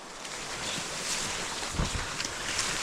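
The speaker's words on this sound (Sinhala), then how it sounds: "වතුර පාරක සද්දයක් ඇහෙනවා." Steady rushing of a nearby stream running through dense forest on the hike toward Gawarawila plains, a continuous broadband wash with a few slightly louder surges and no voices.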